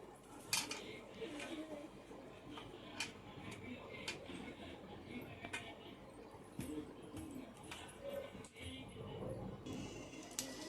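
Boiled noodles are tossed with about two spoons of flour in a pan, giving soft irregular scraping, clinking and squishing sounds of utensils against the cookware throughout, fairly quiet and close.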